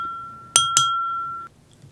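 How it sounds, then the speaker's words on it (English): Two quick bright chimes of a silver butter knife tapped against a crystal wine glass, close and clear, the second strike following closely after the first, leaving a pure ringing tone that sustains and then cuts off in a quiet room. "The pleasant chime of a silver butter knife against a crystal wine glass cut through the laughter and side chatter"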